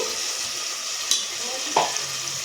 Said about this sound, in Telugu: తర్వాత టమోటాలు ఎర్రగా బాగా దోరగా వేసుకోవాలి.